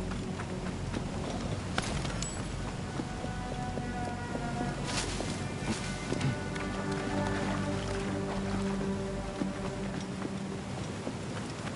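Horse hooves clip-clop steadily in Assassin's Creed Origins, mixed into a dense wash of rain-like ambient noise, with occasional clanks and a low tonal drone later on.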